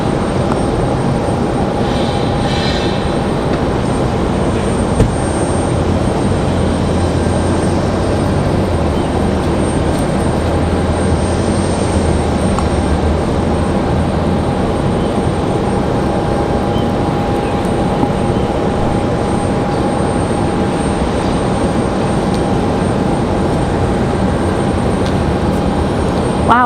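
Southwest airliner arriving from Midway at Raleigh-Durham International Airport, a steady loud jet engine roar with broadband rumble and a faint high whine, continuous throughout.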